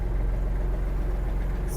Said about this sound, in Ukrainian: Поки двигун прогрівається